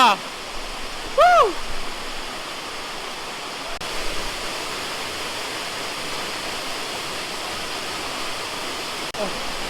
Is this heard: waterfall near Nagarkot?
yes